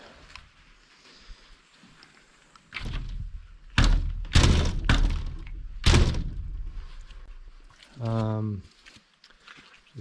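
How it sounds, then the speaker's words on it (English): A greenhouse-style arctic entry door opens and closes, with several loud thumps and knocks in a row, then a brief low creak. The sounds are close and heard alone. "Door opens and closes good."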